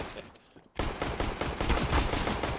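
Rapid gunfire in a competitive video game shooter match, a dense burst of overlapping shots that cuts in loud after a brief quiet start and keeps rattling on without pause.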